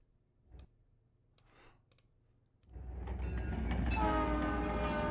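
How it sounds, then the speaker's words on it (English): A train sound effect played during a livestream, starting after a few soft clicks and quiet seconds, then a loud rumbling train with a sustained horn blast, close and steady. "Let me see if I can quickly find a train sound and just manually make the hype train sound go off"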